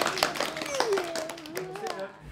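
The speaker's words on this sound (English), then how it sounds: "give yourselves a round of applause" Scattered hand claps from a small group break out after a guided freeze exercise, fairly quiet and brief, under a speaker's voice that carries through.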